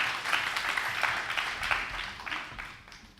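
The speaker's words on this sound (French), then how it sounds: "Est-ce qu'on peut l'applaudir, s'il vous plaît?" Audience applause for a contestant at a semifinal youth speaking competition in Guinea, a dense wash of many hands that holds steady and then eases off toward the end.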